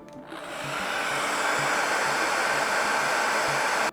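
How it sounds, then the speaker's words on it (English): A hair dryer blows steadily at close range, a loud continuous whir and rush of air that cuts off abruptly at the end. "30 to 40 seconds with the hairdryer will do it."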